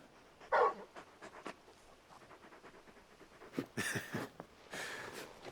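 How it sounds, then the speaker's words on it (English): Panting from a big in-game dog in Final Fantasy XVI, a soft rhythmic huffing over quiet background ambience, with a brief louder burst near the start and breathy gusts toward the end. "You're just a big puppy, aren't you? A very big puppy."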